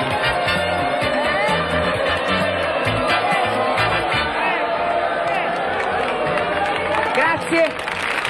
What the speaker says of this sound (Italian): grazie per questo bellissimo applauso